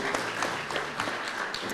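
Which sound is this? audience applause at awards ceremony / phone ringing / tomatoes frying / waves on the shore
audience applause at awards ceremony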